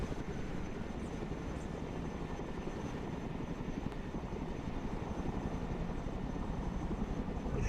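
A Chinook helicopter flies in the military strategy game Broken Arrow, giving a steady low rotor and engine drone that stays even and moderately faint throughout, with no voices.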